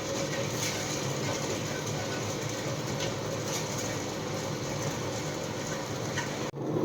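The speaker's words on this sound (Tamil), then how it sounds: "அடுத்து நம்ம ஊற வச்சுருந்த கம்பை சேர்த்து அரைச்சிடுவோம்." A mixer grinder whirs loudly and steadily as it grinds soaked pearl millet (kambu), a dense continuous mechanical drone that cuts off abruptly near the end.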